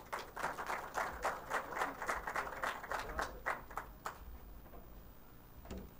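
Audience applause welcoming a speaker at an electromobility event, a burst of many hands clapping for about four seconds that fades out, fairly faint and distant.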